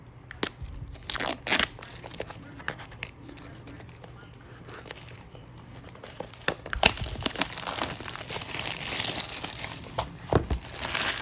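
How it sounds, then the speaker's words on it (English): Plastic wrap crinkling and crackling while a Chromecast with Google TV 4K is unboxed, close and irregular bursts of rustle that thicken toward the end, with no talk. "Let's put the plastic on the side."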